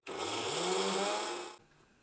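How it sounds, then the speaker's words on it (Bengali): A kitchen blender grinds dried dates into powder with a loud, steady motor whir for about a second and a half, then cuts off abruptly, close by. "এটা ভালোভাবে ঠান্ডা করে নিয়ে একটা ব্লেন্ডারের মধ্যে আমি ব্লেন্ড করে নেব"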